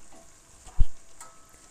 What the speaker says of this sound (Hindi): अब इसको मज़ीद हम इसको भूनते जाएंगे